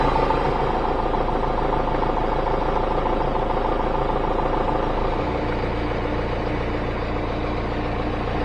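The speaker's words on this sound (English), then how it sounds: "I'm going to fire up the tractor here, turn on the pump, and see if we can get some pressure." A tractor engine runs steadily with a field sprayer's pump switched on, a loud continuous mechanical drone with a low throbbing rumble and no pauses.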